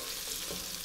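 Onions caramelize in avocado oil over a medium flame, a faint, even hiss of gentle frying that lasts only a moment.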